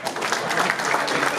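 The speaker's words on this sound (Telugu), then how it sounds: "ఇప్పుడు చప్పట్లు కొట్టొచ్చండి." Audience applause at a film pre-release event, a dense, sustained wash of many hands clapping at once, loud and continuous for the whole short moment.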